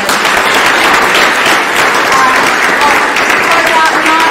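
Crowd at a startup accelerator investor night in Melbourne giving a sustained round of applause, dense and loud continuous clapping with some voices mixed in.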